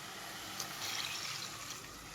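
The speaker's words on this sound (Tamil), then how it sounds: "தண்ணி வந்து 4 கப்பு ஊற்றணும்." Water is poured into a cooking pot on a home stove to make a semolina dish, a steady, airy splashing pour held close and moderately loud, with no talking.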